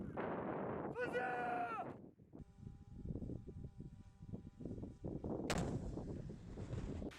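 An anti-tank weapon fires during live-fire training in a windy mountain valley gap, with two loud booming blasts over heavy wind rumble, and voices talking in between.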